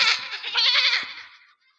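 A voice imitates a goat's bleat during a live Hindi stage comedy act: one nasal, wavering bleat, close and fairly loud, that fades out at the end.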